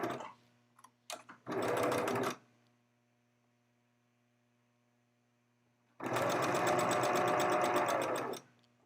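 A sewing machine runs in two bursts as it stitches shorts, first after a few short taps and then again in a longer rapid run. A low mains hum fills the quiet gaps.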